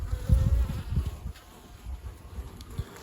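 Honey bees buzz steadily around an open hive during a spring inspection, their low droning hum rising and falling at close range with no talking.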